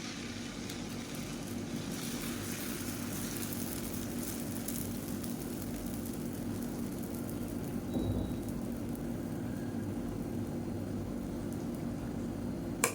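Dosa batter hisses on a hot pan, a steady dense sizzle like rain that holds evenly throughout, with a faint clink near the end.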